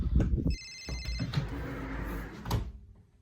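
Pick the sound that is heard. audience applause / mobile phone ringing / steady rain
mobile phone ringing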